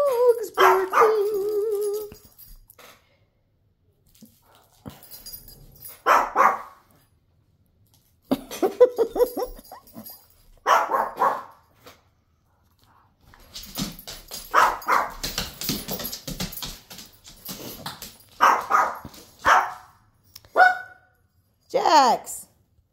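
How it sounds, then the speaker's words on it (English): Small Pekingese dogs bark and yip in short bursts spread through the clip, fairly close and moderately loud, with a voice talking between and over some of the barks. "Crazy for dogs barking."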